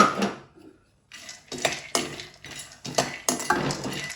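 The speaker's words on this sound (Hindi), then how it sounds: "अब यहाँ पे फिर 1 चम्मच घी डाल देंगे और पिस्ता इसके अंदर डाल देंगे।" Metal clinks and scrapes of a spoon against a pan as ghee and pistachios go in, several sharp knocks in an uneven rhythm after a brief quiet gap, with a faint sizzle underneath.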